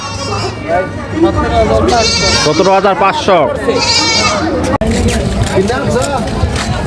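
Goats bleat repeatedly at a busy traditional cattle and goat market in Kaliganj, Gazipur, with several loud, wavering cries close by over constant crowd chatter and bargaining voices.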